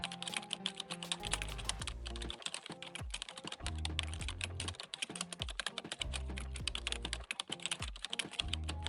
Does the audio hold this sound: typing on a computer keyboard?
yes